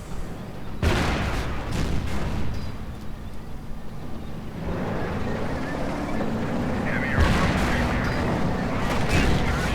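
Tank cannon fire rings out in a WWII strategy game battle between Panzer IV, Panther and Pershing tanks: a sharp blast, then another near the end, over rumbling engine and ambient battle noise.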